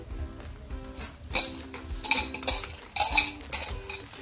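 Mutton being stirred with ginger-garlic paste in a metal pot for a village-style mutton masala, with a spoon scraping and clinking against the pot in bursts of close, fairly loud strokes.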